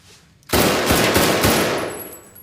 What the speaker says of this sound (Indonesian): Kapten John meminta si Penn menembak sasaran.